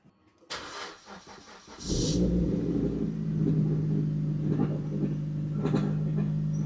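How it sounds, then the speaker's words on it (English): A Suzuki Swift Sport track car's engine cranks and catches, then settles into a steady, loud idle as it warms up, heard up close with no talking. "then I'm going to run the engine up to full working temperature"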